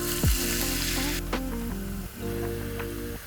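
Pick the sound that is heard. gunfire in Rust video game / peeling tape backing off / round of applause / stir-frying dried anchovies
stir-frying dried anchovies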